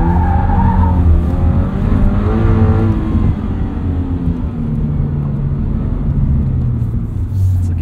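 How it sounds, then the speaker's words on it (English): A 2022 Subaru BRZ drifts across a dry, dusty rally course, its engine rumbling loud and close under steady tire scrabble and skidding noise that runs the whole stretch. "Or it's just good for drifting practice."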